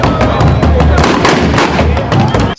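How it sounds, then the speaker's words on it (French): Loud, rapid booming blasts of ceremonial cannon fire welcoming guests at a traditional ceremony in Bayeke, Lubudi territory, crackle one after another, with voices shouting underneath. "C'est par le coup des canons"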